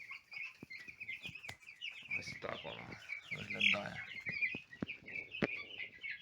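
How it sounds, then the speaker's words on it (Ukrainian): Cobb 500 broiler chickens and roosters cluck and squawk in a busy barnyard chorus, with a person speaking briefly over the birds. "Зараз півники почнуть нападати. А може і курочки."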